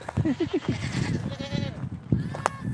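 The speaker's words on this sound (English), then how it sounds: "We're gonna go by the goat." A goat bleats at a farm beside beehives, several short wavering cries near the mic in quick succession followed by a brief higher call, with people talking nearby.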